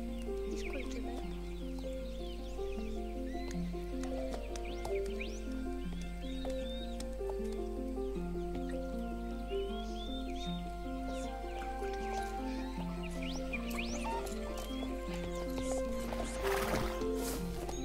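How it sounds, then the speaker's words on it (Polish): Star Stable Online horse in a video game: steady layered game music with a repeating melodic pattern, over which faint hoof clip-clops and brief neigh-like calls emerge intermittently, with no talking. "W takim razie idziemy zobaczyć konia."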